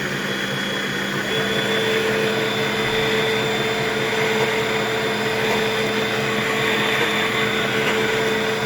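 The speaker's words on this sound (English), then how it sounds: "Let me just turn on the stand mixer real quick." A steady electric motor whine runs throughout with a constant hum and tonal buzz, a kitchen stand mixer powered by a 500W portable power station droning on without pause.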